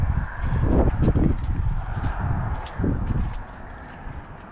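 A heavy horse hitch team clip-clops along, a dense run of hoof strikes landing in loose rhythm, loud at first then easing slightly as the team passes.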